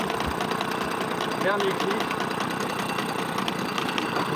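A small pull-cord engine idles steadily in the remote bush of central Africa, a continuous even rumble with a voice speaking briefly over it.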